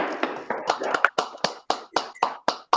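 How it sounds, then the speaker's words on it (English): Roughly a dozen sharp hand claps closing out a class, close and loud, falling in a steady, slightly quickening rhythm with silence between the later claps. "Clap that up"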